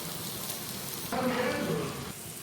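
Chopped onions with salt added go into hot oil in a home kitchen pan, setting off a sudden steady sizzle and crackle that starts partway through and holds fairly loud for about a second before easing.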